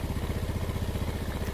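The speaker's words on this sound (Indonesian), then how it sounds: "Oke, motor sudah hidup." A freshly assembled Yamaha Vega ZR motorcycle engine idles close by with a steady, rapid putter of exhaust pulses at an even rhythm, with no talk.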